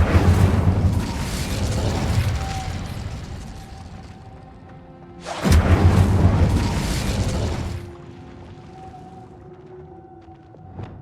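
Incendio fire spell cast in Hogwarts Legacy gameplay, bursting with two deep roaring blasts several seconds apart, each a dense rumbling swell that slowly fades, with no voices over it.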